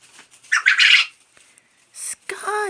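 Male quail calling in short, sharp bursts, a loud raspy call followed by a clear whistled note, close by with brief pauses between.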